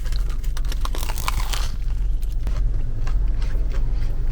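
Close crunching bites and chewing of a crusty bagel, a run of crackly snaps over steady low background rumble, apparently outdoors near traffic.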